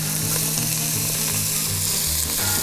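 Onions and celery sizzle steadily in rendered bacon fat inside a Dutch oven, a close, loud, continuous frying hiss with occasional crackles and no talking.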